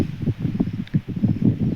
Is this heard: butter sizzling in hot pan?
no